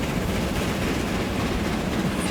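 Train running along a rail line in the video game Transport Fever 2, a steady dense rolling rumble with faint rhythmic clatter throughout, fairly loud and alone without talk.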